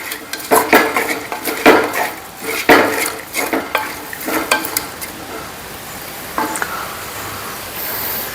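Prawns frying in a pan while a metal spoon stirs and scrapes, loud irregular clanks and scrapes over a low sizzle, busy for several seconds before easing off.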